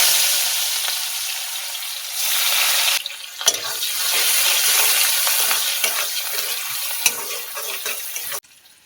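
Chopped onion sizzles loudly in hot oil with five-spice, a close, continuous crackling hiss with stirring scrapes that fades briefly near three seconds, rises again and stops abruptly near the end.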